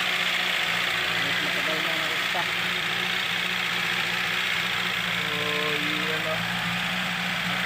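An old car engine idles steadily and loudly throughout with a continuous rumbling drone, while someone speaks over it.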